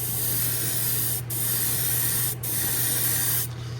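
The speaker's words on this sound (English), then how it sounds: "Here we go, high pressure, 45, 50. We're just going to blast it on there." A high-pressure paint spray gun at 45 to 50 psi hisses loudly and steadily in close bursts, with two brief gaps where the trigger is released before spraying resumes.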